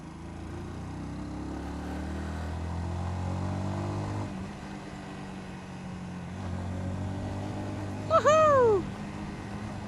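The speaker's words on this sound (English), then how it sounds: "Oh, someone has a motorcycle on the street." A motorcycle passes on a street during the first day of winter, its engine a low harmonic drone that rises and falls over several seconds, followed near the end by a brief loud whine that sweeps up and down.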